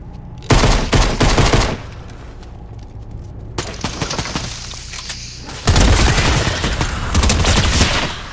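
Shotgun fire in the video game Fortnite, loud booming blasts in two dense bursts separated by a quieter stretch of lighter game noise.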